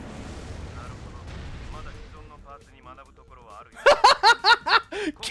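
Missiles launch from a mech in the Armored Core Nexus video game and detonate in a rapid series of about six loud, sharp blasts. A faint rumble and some softer mechanical tones come first, building up to the volley.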